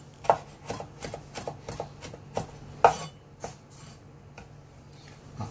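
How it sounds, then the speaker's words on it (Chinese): A knife finely chops salted pickled mustard greens on a board, with a run of irregular, fairly quiet close thunks and scrapes, a couple of them sharper and louder. "咁我哋而家切鹹菜啦，切鹹菜切碎啲咯"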